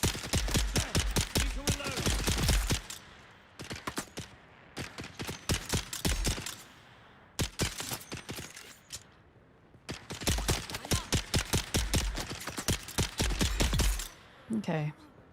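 Several bursts of rapid gunfire in the video game Dune Awakening, loud, dense volleys separated by short quiet gaps, with a brief tonal game sound near the end.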